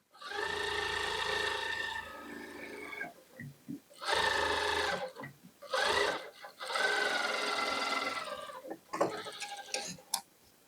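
A sewing machine stitching a cordset kurti runs in steady, humming bursts of several seconds each, with brief stops and short clicks between runs, heard close and alone.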